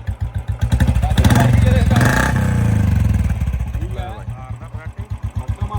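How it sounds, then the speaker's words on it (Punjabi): A Bullet motorcycle thumps into life after a kick-start, its single-cylinder engine settling into a loud, close, steady slow beat, with a rev swell in the middle and voices talking over it. "ਅਮਨ ਮਾੜਾ ਸਟਾਰਟ ਕਰਕੇ ਦਿਖਾ ਦੇ ਬਾਈ ਇਹਨੂੰ ਮਾਰ ਦੇ ਕਿੱਕ ਬਾਈ"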